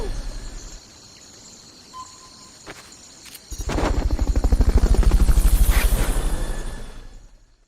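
Helicopter rotor in the Metal Gear Solid Peace Walker video game, a Fulton recovery chopper that swells in from quiet into a loud, steady rhythmic thumping wash before fading out.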